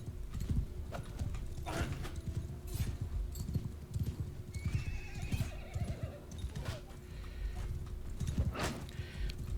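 Horse hooves clip-clop in a quick, steady rhythm while a horse neighs and whinnies loudly several times, in the battle game Mount & Blade II: Bannerlord, amid a busy low rumble of activity.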